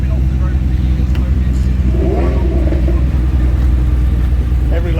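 A Nissan Skyline GT-R's RB26 engine idles and revs nearby, a deep continuous rumble with a rising throaty swell midway, loud and close, with people talking over it.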